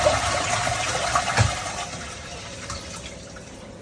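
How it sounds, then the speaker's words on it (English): A caravan toilet flushes with a continuous rush of water that surges briefly in the middle and then tapers into a steadier, softer flow. The sound is close and alone, with no talking. "flush the toilet."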